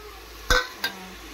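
A spoon stirs chili-spiced food in a pan, giving two quick scraping clinks about a third of a second apart against a quiet kitchen background.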